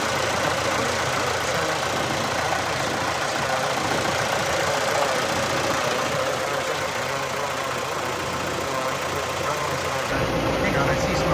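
A red diesel tractor engine with a VE injection pump running just after starting, a loud continuous rough clatter holding steady throughout, close by with a voice partly underneath.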